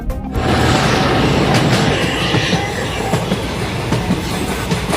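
A passenger train rumbles steadily along the tracks close by on the Bagalkot–Bijapur route near Badami, a loud continuous roar with faint rhythmic clacking throughout.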